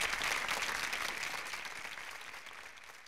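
Applause from the audience at the end of the Alice's Restaurant recording, a dense wash of clapping that gradually fades over a few seconds.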